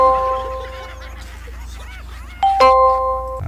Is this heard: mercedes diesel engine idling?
no